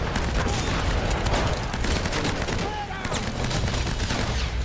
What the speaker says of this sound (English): Oh great, I got a shotgun.